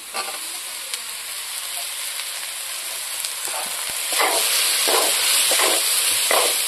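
Hot oil sizzles steadily in a pan as fried potatoes and ground peanut paste are added, the hiss swelling louder partway through as a utensil stirs with soft repeated scrapes.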